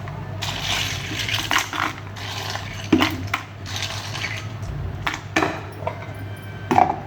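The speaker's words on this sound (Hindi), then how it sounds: "अब इसमें आइस क्यूब डालेंगे।" Ice cubes tumbling into a blender jug holding a banana, sapota and date milkshake, giving a string of hard clinks and clatters that peak in sharp knocks, close and clear over a steady low hum, with no talking.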